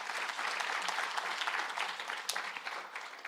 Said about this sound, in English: First of all, a round of applause to him once again.